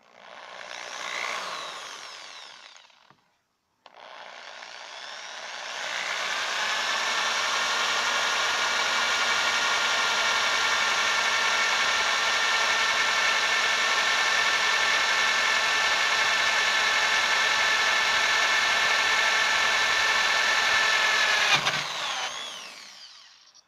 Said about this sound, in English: and we'll drill right through there.